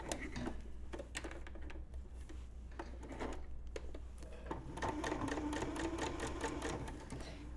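A sewing machine stitching fabric for a mug cozy, a steady rapid mechanical whir punctuated by clicks and brief stops and starts, close and moderately quiet.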